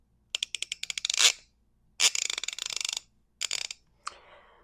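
Ratchet teeth of a brand-new, ungreased Harbor Freight Icon 90-tooth split beam torque wrench clicking in quick bursts, four close, dry runs of rapid ticks with short pauses between.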